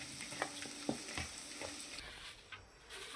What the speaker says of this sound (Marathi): आता ह्याला व्यवस्थित मिक्स करून घ्यायचं.